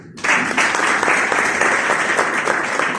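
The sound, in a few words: audience applause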